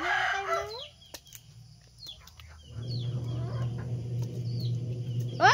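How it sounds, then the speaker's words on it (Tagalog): A chicken in a backyard flaps its wings in a burst, with a few clucks and faint bird calls around it, fairly close and with no talking. "Hindi nahiya yung manok."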